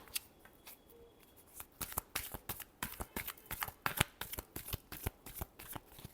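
Close, crisp shuffling of a deck of tarot cards, with bursts of riffling flicks growing busier and more rhythmic, alone without speech.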